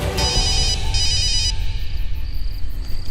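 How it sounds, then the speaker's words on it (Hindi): A phone rings in two short electronic bursts, fairly close, then stops, leaving quiet room tone with a faint high whine. "इतनी रात में नारद का फोन?"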